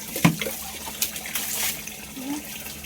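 Warm water runs from a tap while dogs are bathed, a steady close splashing stream with a few louder sloshes and faint background sounds.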